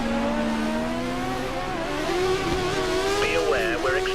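A turbocharged Lotus Formula 1 engine from the 2013 racing game holds a steady high-revving drone that climbs gradually in pitch, loud and continuous throughout with no talking.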